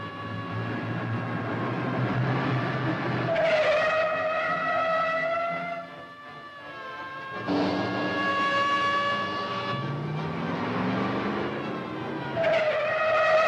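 A car driving fast on a highway chase, sustained engine roar with rising and falling whines and tire squeals in waves, loud and close, with no voices.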